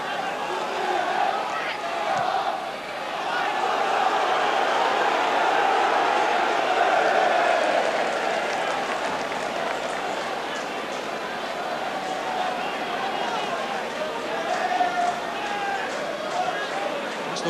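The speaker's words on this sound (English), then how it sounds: "Barnes is given a tremendous roar by the Grimsby crowd" A Grimsby Town football stadium crowd at a 1984 match against Wolves, a broad, sustained roar rising and falling across the stands, with a commentator talking over it.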